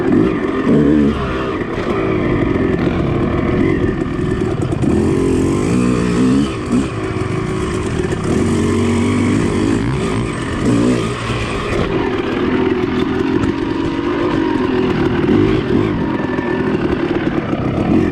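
Dirt bikes, an RM250, CRF450 and CRF110, ride overgrown trails and a sand track, engines droning loud and steady throughout with revving swells and close, continuous buzzing.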